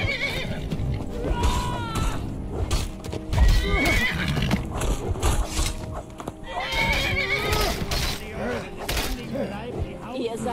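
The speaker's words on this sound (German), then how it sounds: "Ich glaube, ich reite mal mit meinem Pferd weg" Hoofbeats of a ridden horse in the video game Skyrim clop steadily and close, with repeated whinnies and neighs breaking through.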